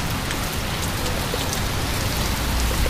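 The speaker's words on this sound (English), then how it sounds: "The rain is coming down harder," Heavy rain pours down after a supercell thunderstorm with hail, a dense, steady hiss of drops hitting surfaces, loud and unbroken throughout with no voices.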